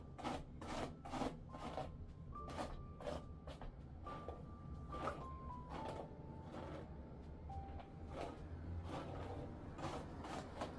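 Paddle brush dragged through hair knots on oiled hair in quick rhythmic rasping strokes, about a dozen close, soft brushing swishes with a faint tone underneath and no talk.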